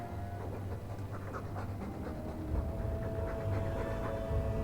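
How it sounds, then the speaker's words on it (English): A dog pants steadily in the video game Dragon Age 2, a continuous rhythmic huffing close by, with a low background hum and no talk over it. "All that noisy dog breath, day in, day out."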